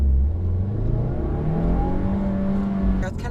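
2015+ Subaru WRX with aftermarket exhaust revving up, engine pitch climbing and growing louder up close over a few seconds.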